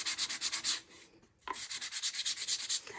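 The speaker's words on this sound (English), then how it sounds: "we're just going to take a piece of sandpaper now and go around the edges" Fine 320-grit sandpaper is rubbed around the edges of a paper-napkin decoupage farmhouse decor piece with very light pressure. The rhythmic back-and-forth scratching strokes are close, stop briefly partway through, then resume in quick regular passes.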